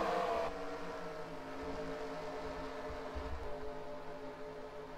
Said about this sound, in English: The cars are rolling off the pit road